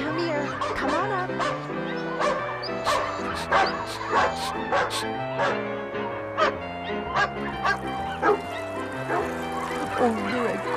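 A Lemax Barkley-Dog Hotel & Spa novelty piece gives off repeated loud, close yips and barks in a bouncy rhythm, layered over a tinkling electronic melody through most of the stretch.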